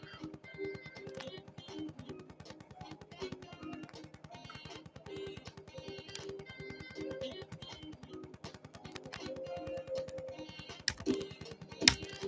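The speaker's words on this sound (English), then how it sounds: "Keyboard work, enter." Fast, continuous typing on a computer keyboard, with dense irregular key clicks close up and a few louder keystrokes near the end, such as an enter key.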